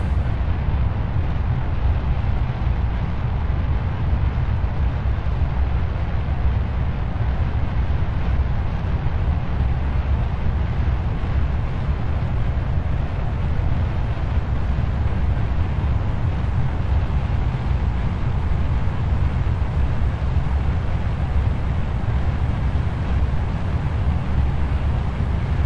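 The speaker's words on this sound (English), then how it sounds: "So it looks like it's firing 4 solid rocket boosters, then the main engine, which we can throttle." Solid rocket boosters and a throttleable main engine lift a rocket off in Kerbal Space Program, heard as a steady, loud, continuous low roar filling the whole stretch without talk.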